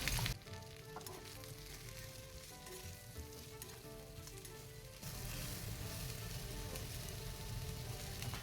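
Bitter gourd sautéing with onion and turmeric in a pan gives a steady, close sizzle that runs the whole time and grows slightly louder partway through, with no talking.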